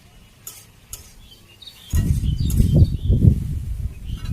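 Spices with salt, turmeric and chili powder are sautéed in a pan with tomatoes and mango, starting with quiet clinks and taps, then a loud continuous sizzle and stirring scrape.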